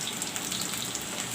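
Bananas frying in hot oil, a faint steady sizzling hiss with tiny crackles throughout.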